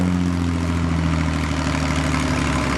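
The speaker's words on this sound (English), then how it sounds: "Tractor sounds like it's got good power, but he's got a long ways to go." A pulling tractor's engine drones steadily and loud at a tractor pull in Langford, New York, a deep heavy roar with strong low harmonics holding constant power throughout, no voices over it.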